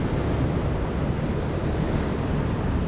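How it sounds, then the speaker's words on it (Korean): Strong ocean surf breaks on a beach in Nha Trang, Vietnam, a loud, continuous roar of crashing waves mixed with wind buffeting the microphone, with no voices. "파도 소리가 너무 세가지고"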